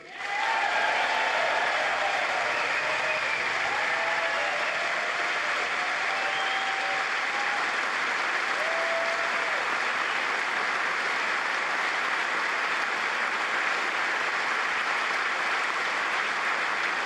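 Sustained applause from a large crowd fills the United States Congress chamber during a Benjamin Netanyahu speech, steady and loud throughout with no speech over it.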